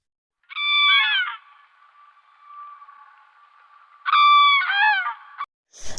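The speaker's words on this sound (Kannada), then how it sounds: "ಆ ಹೆಣ್ಣು ಹಕ್ಕಿಯು ತನ್ನ ಗಂಡನ ಸಾವಿಗಾಗಿ ಪಾರವಿಲ್ಲದಂತೆ ಗೋಳಿಡತ್ತೆ" A female bird wails over her dead mate in a children's Ramayana story, loud honking cries in two bursts joined by a thin, sustained quavering tone, alone and close.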